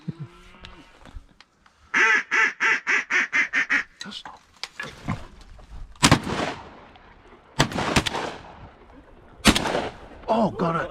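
Several sharp, loud shotgun-like blasts ring out during a duck hunt, spaced a couple of seconds apart, following a burst of rapid duck-call quacking; brief shouts break in between.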